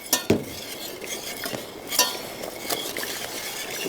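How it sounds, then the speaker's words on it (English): A pot of garlic pasta sauce is stirred steadily, with close scraping and clinks of a utensil against the pot over a soft bubbling background and no talking. "And we're stirring the whole time."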